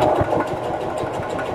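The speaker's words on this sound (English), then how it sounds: "So I'm going to back stitch and then sew forward" A sewing machine back stitching and then sewing forward through thick bag-lining fabric, making a steady mechanical hum with soft, regular pulsing. It runs continuously at a moderate level, with no talking.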